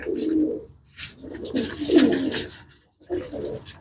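Pigeons coo in a run of soft, throaty calls with short pauses between bursts, close by, with no talking over them. The birds are pure-bred, red with white eyes.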